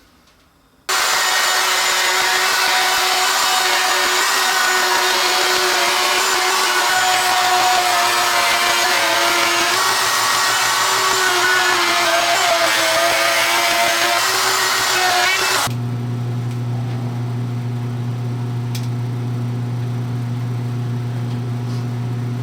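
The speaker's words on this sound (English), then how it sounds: "cutting MDF is a nasty process" Power tool routing a groove into MDF, a loud, steady high-pitched whine with cutting noise that runs for about fifteen seconds and then drops to a lower motor hum as it winds down.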